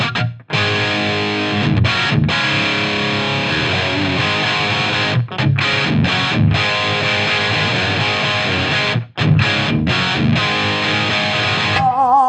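Distorted electric guitar played through a modded Marshall JVM410 tube amp, loud and continuous with thick saturated chords and brief stops between riffs, no voices.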